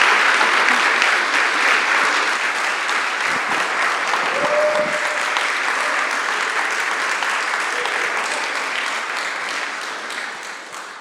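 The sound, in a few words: audience applause for the speakers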